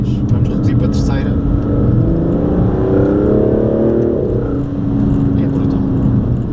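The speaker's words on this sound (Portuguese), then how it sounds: "Isto vamos com a quarta a 2200 rotações, vamos reduzir para a terceira." The 2017 Aston Martin DB11's 600 hp V12 twin-turbo engine drones loudly and close as it drops from fourth to third gear at about 2200 rpm, with a rising rev through the downshift. Someone talks over it throughout.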